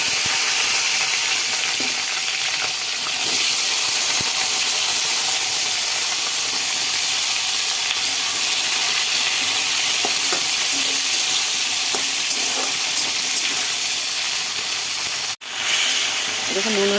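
Vegetables frying in hot oil with panch phoron, bay leaf and dried chilli, a loud, dense, continuous sizzle and hiss that holds steady for a long stretch before briefly cutting out near the end.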